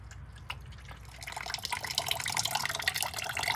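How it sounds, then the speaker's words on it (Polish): Water drains and trickles from a 1995 Mitsubishi Eclipse GST engine bay, starting as faint drips and building into a steadier, louder splashing flow, close by and with no talk. "I zaraz wodę zlewam."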